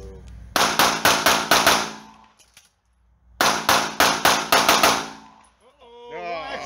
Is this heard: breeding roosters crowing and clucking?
no